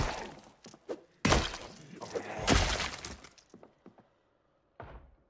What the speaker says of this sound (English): I still hear door thudding, so that means there's one up there.